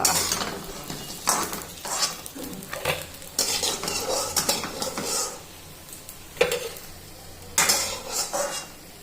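Gram-flour coated potato chops fry in a pan, with a soft sizzle beneath repeated close clinks and scrapes of a metal utensil against the cookware in uneven bursts.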